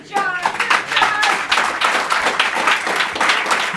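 A church congregation claps together at a service, a loud burst of many hands that starts abruptly and keeps a dense, slightly rhythmic patter throughout.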